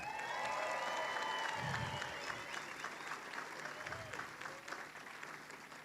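Soft crowd applause at a Western States 2024 race meeting for the women's elite runners, a moderate patter of clapping with scattered cheers, heard from a distance and fading slightly toward the end.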